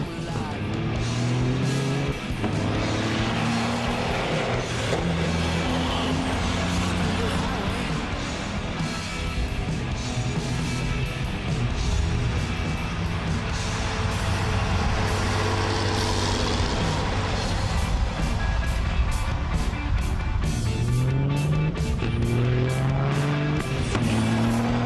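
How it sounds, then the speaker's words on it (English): Semi trucks, including a 2012 Peterbilt with a Cummins engine, roar down a drag racing track in a loud, sustained diesel drone with rising and falling gear pulls, close and continuous throughout. "the trucks are rolling in, having a great time. The drag racing's going on"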